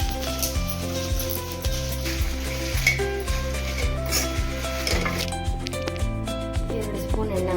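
Onion, garlic and curry leaves crackle briskly in two spoons of hot oil, a bright, busy sizzle with stirring scrapes, set over a steady tonal background.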